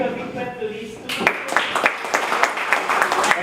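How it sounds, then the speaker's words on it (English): Audience clapping for two people at an event, starting about a second in, after talk, as a steady crowd of hand claps with some louder individual claps. "Let's give a big clap to these two."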